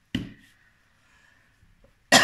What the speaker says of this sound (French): Oh, je suis désolée, je tousse toujours.